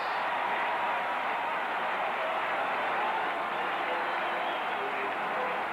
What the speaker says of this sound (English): And you feel this Dallas crowd come alive